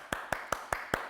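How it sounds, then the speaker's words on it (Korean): Children clapping after a church service for toddlers, six evenly spaced, crisp claps in a steady rhythm, close and fairly quiet, with no talking. "박수 쳐줘야지."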